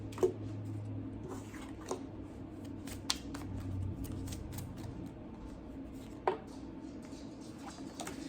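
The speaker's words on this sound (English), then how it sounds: "I'm gonna shuffle some cards." Soft, irregular papery snaps and riffles of oracle cards being shuffled by hand, close and quiet, with a few sharper clicks spaced apart.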